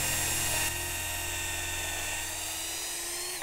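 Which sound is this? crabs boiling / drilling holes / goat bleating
drilling holes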